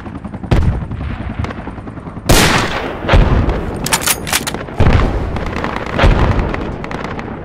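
Gunfire and explosions in a military video game: loud, close bursts of rapid shots and heavy booming blasts, one after another with short gaps, while voices talk over the action.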